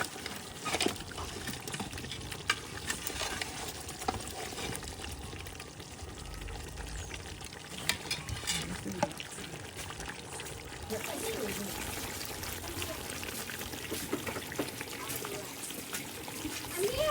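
Water poured into a pot of frying layer bird curry, giving a steady liquid rush and sizzle close by, with people talking over it.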